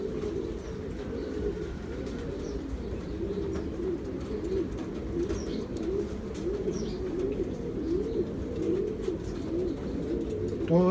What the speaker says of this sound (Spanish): aquí les dejo un pequeño video para que vean cómo yo estoy preparando ya mis palomas mensajeras para la temporada de cría